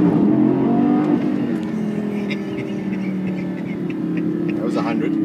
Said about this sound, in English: right now, baby, I'm driving a Lamborghini